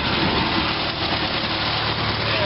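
A 1948 Farmall Cub tractor engine idles steadily, with a close, continuous rough rumble and a dense mechanical clatter that holds an even level throughout.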